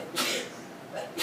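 Two quick sneezes, one at the start and one at the end, with a faint spoken word before the last one.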